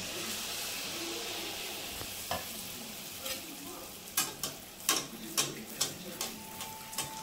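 Mung dal malpua batter frying in hot oil in a wok, a steady low sizzle with soft crackling pops that grow more frequent toward the end, no talking.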